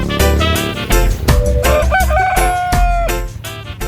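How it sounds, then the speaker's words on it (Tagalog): A rooster on an egg-laying chicken farm crows loudly and close by at 6:30 in the morning, a long drawn-out call, with other chickens clucking around it. "Nagtuktula, wini-welcome tayo."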